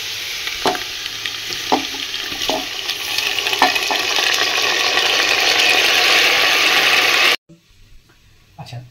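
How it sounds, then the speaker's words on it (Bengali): Rice stir-fried with vegetables in a hot pan for pulao, a loud continuous sizzle with occasional spoon scrapes that builds and then cuts off abruptly, leaving quiet background. "এবার আমি যেটা দিচ্ছি সেটা হচ্ছে চাল"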